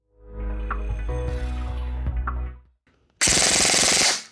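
After a long mechanical whir with faint clicks, a Zion Arms PW9 AR9 airsoft SMG lets off one loud, sharp full-auto burst of about a second at close range.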